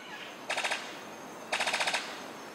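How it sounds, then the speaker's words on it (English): Brown sicklebill bird of paradise giving its courtship song, two rapid staccato bursts of sharp, machine-gun-like rattling notes about a second apart, moderately loud over faint forest background. "His courtship song sounds like a machine gun."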